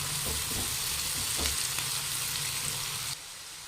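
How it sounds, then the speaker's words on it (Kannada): Onions frying in oil in a pan until reddish-brown for egg curry gravy, a close, continuous sizzle with a few soft stirring scrapes, briefly dropping in level near the end. "ಈ ಈರುಳ್ಳಿ ಸ್ವಲ್ಪ ಚೆನ್ನಾಗಿ ಕೆಂಪಗಾಗಬೇಕು, ಅಲ್ಲಿವರೆಗೂ ಇದನ್ನು ಫ್ರೈ ಮಾಡ್ಕೊತೀನಿ ನಾನು"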